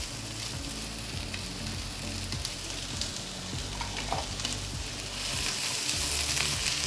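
Finely chopped onion frying in a pan, giving a loud continuous sizzle with a rough crackling texture that stays even throughout, no voices.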